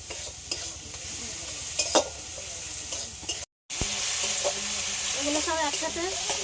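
Spices sizzling with salt and turmeric in a frying pan, steady hiss with stirring scrapes, a short break midway, then continued frying with clinks of the utensil.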